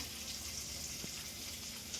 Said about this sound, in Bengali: এখানে আলু আর গাজরটা ভাজা হচ্ছে